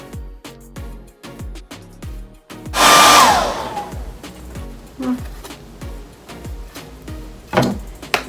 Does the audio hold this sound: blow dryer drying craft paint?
yes